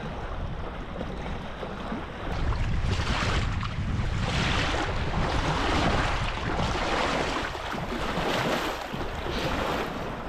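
Waves wash against a shoreline where a kayak is being loaded on a cold winter camping trip, a steady rushing surge mixed with gusty wind buffeting the microphone, fairly loud and continuous throughout.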